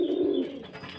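A male Lahori pigeon coos close by in a deep, rolling call that fades after about half a second, with soft background noise continuing afterward.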